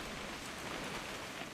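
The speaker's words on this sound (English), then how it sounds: "It's gonna rain the whole weekend, isn't it?" Steady rain falls in What Remains of Edith Finch, a continuous even hiss of drops on surfaces with no voices, holding at a moderate level throughout.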